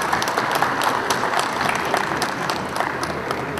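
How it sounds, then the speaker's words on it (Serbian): Sustained audience applause fills a Mercedes-Benz stand press event at the 55th International Motor Show in Belgrade, a dense, steady clapping from a crowd that carries on without pause. "Zamolit ću da ga pozdravimo jednim aplauzom."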